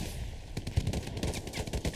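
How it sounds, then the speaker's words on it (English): An MG42 machine gun fires in the World War II shooter game Hell Let Loose. After a brief lull, a rapid burst of chattering shots breaks out and runs to the end, fairly loud over a low background rumble. "Zim is charging with the MG42."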